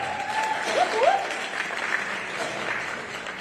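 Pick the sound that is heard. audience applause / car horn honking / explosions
audience applause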